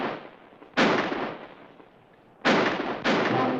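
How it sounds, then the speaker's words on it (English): Three sharp, loud gunshots ring out in an ambush at Gila Gulch near Tombstone in a western TV drama, each followed by a long echoing decay, with the first well apart from the two closer later shots. "Wait till I get off the first shot."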